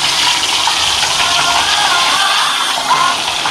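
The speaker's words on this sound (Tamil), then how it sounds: "இந்த அதை நம்ம காடையை போட்டு பொறிச்சு எடுத்துக்கலாம்." Marinated quail frying in hot oil, a loud, steady sizzling hiss that runs unbroken throughout without any voices.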